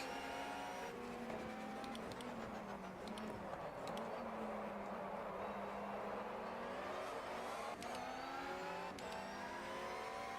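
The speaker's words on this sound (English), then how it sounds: "The engine does sound fantastic." A race car engine in the racing game GTR2 at Donington Park revs and shifts, pitch climbing and dropping through gears in a steady, continuous drone at moderate volume.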